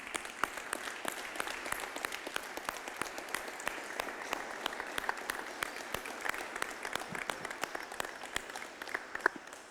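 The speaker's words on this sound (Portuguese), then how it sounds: "Dá uma salva de palmas para Jesus." Church congregation at a Sunday service gives a sustained round of applause, a quiet, even patter of many hands heard from a distance with no talking over it.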